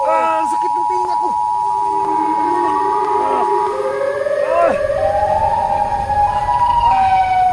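A loud siren-like wail rises and falls in a forest, sweeping up and down in pitch continuously and close, with rough noise underneath.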